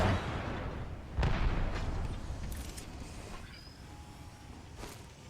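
Grenade explosion and gunfire in the video game Apex Legends: a heavy boom near the start and a second blast shortly after, followed by a rumbling decay and faint distant shots.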